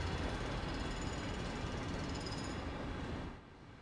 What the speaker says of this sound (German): Ja, hier drüben ist eine Baustelle.